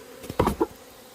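Hornets buzzing around honeybee hives in Jeollabuk-do, Korea, heard as a few short, close buzzing bursts as insects fly past, against quiet background with no talking.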